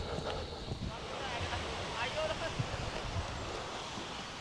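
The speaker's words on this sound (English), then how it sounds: "Silence, except for the waves and the odd rooster up there." Ocean waves and wind at the Punta Cruz Watchtower in Maribojoc, Bohol, Philippines, a soft continuous wash of surf with gusty wind buffeting the microphone and faint voices underneath.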